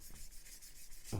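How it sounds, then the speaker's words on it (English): An old, worn sanding sponge buffs a plastic Revell Lockheed Ventura PV-1 model kit part, giving soft, close, steady rubbing strokes with a slightly louder scrape at the end. "I'll just buff it up with a sanding sponge"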